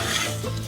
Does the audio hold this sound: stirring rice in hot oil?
yes